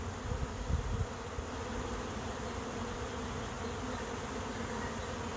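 A clustered swarm of gentle honeybees settling into a trap hums in a continuous, fairly quiet buzz, slightly louder at the start then steady and unbroken.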